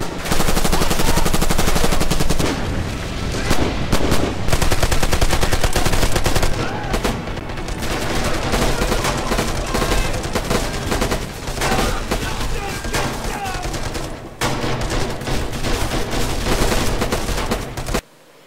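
Rifle fire in a first-person shooter game, sustained rapid bursts of loud close gunshots hammering almost without pause, a voice occasionally heard beneath the shooting.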